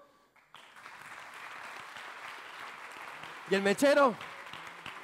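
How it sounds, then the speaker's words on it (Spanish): A café-science audience gives moderate applause for a volunteer, steady clapping that runs under a presenter's voice, with speech rising briefly near the end. "sí señora, adelante, un aplauso"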